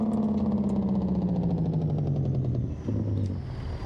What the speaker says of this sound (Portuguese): Vou ligar o freio motor.